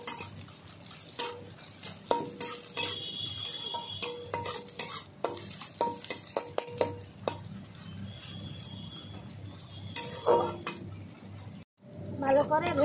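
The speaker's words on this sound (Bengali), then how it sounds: "একসঙ্গে সব ভেজে নেব।" Garlic, black cumin, chopped onion and whole split green chillies frying together in a pan, a steady sizzle broken by frequent scraping and clattering stirring strokes, close and moderately loud throughout.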